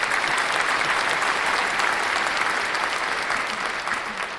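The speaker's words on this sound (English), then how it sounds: "I've got the clap." Dense, steady applause from a crowd, loud and continuous throughout with no talk, easing off slightly toward the end.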